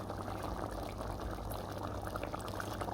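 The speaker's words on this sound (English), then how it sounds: "we're adding the cream to the mix" Cream pours into a pot of seafood chowder, a quiet, steady liquid gurgle and stream with a low bubbling undertone, continuous and faint, no voices.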